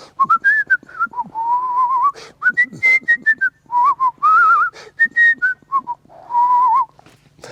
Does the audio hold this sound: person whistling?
yes